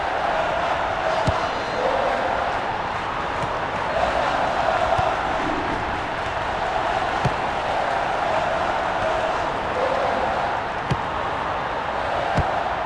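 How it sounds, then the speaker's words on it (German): A large stadium crowd at a Bundesliga football match, FC Augsburg vs Bayer 04 Leverkusen, roars and cheers continuously after a goal, a dense wash of voices with occasional sharp claps or bangs cutting through. "was für ein Jubel"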